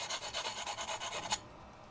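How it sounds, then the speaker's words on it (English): A small sharpening stone rubs back and forth across the surface of a steel slitting punch being heat-treated, making a rapid, rhythmic rasping of about a dozen close strokes that stop abruptly. "I just shine the surface of this with a stone, like a little sharpening stone"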